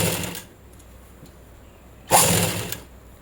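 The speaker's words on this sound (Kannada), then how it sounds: "ಫ್ರೀ ಹ್ಯಾಂಡಿಂದ ನಾವು ತಿರುಗಿಸ್ಕೊತ ಸ್ಟಿಚ್ ಮಾಡಿಕೊಂಡು ಬರಬೇಕಾಗತ್ತೆ" A sewing machine with a normal presser foot stitches thread piping free hand on a blouse, running in two short bursts with quieter mechanical hum between them, close by.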